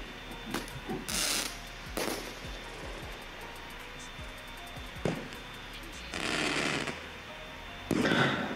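Thunder Kong fireworks crackle in short bursts, followed by two sharp bangs, heard from a moderate distance outdoors.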